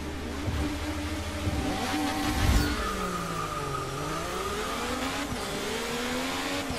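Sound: IndyCar single-seater engine in Forza Motorsport 6 video game

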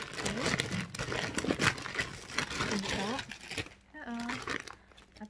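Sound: crinkling plastic ziplock bag being handled during unboxing

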